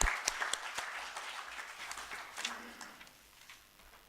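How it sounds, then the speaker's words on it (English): Audience applause at a formal launch event for secretarial standards, a dense burst of clapping that starts loud and slowly tapers off over about four seconds. "I request all of you to please give a big round of applause,"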